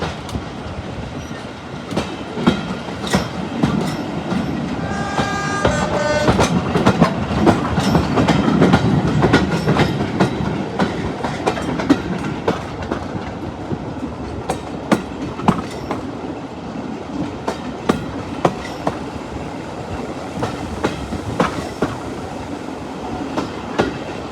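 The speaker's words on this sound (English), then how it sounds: "I'll be taking this train all the way to the end of the line at Swanage" Diesel train running on the Swanage Railway toward Swanage, with steady rumbling engine drone and a continuous clickety-clack of wheels over rail joints, brief squealing tones, heard close from on board.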